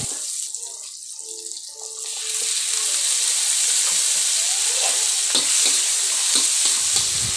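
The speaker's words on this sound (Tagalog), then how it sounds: "Isunod ko na rin dyan yung sibuyas. Mekos-mekos lang natin hanggang sa lumabas yung aroma ng ating mga ricado." Garlic and onion sauté in margarine, the sizzle rising into a loud, steady frying hiss with scraping stir strokes of a utensil against the pan, close and continuous, no voices.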